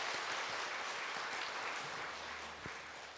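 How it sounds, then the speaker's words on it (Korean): A church congregation at a Sunday worship service applauds the choir, a broad, steady wash of clapping that fills the room and tapers slightly toward the end. "성가대에게 감사와 영광의 박수 올리겠습니다."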